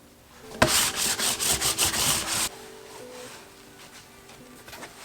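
Rhythmic rubbing strokes from an iron being pressed and slid over square fabric pieces to fuse interfacing for a bag, about two seconds of quick back-and-forth swishes, then a faint, quiet room.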